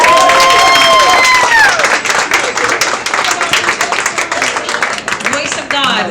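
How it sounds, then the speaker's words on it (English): A crowd at a Pittsburgh poetry night applauds a poet with loud, dense clapping and some cheering and whoops, sustained close and energetic throughout the few seconds. "Applaud the poet."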